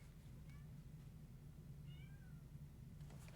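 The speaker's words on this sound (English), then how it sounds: "I have a cat screaming at me." A house cat yowls and meows indoors, two faint, short, rising cries heard over a steady low hum.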